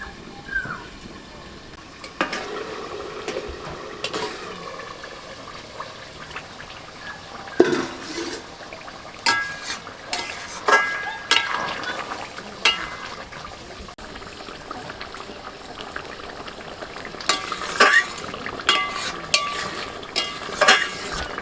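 Duck curry cooks in a covered pot after hot water is added, with soft bubbling and scattered sharp clinks and scrapes of utensils or the lid, close by and fairly quiet.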